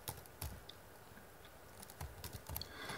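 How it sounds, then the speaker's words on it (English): Computer keys tapped in quick, uneven bursts while commands are typed in English on a Hungarian-layout keyboard to repair a GRUB rescue boot problem. Close and fairly quiet, with no voice. "I use a Hungarian keyboard layout, but I need to type in English"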